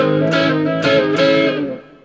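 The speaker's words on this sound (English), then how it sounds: "we take this bar chord, any bar chord really, and we slide it down and back, a half step" An electric guitar barre chord strummed and slid down a half step and back in a rockabilly lick, three ringing attacks with sustained harmonic chords fading at the end, played alone.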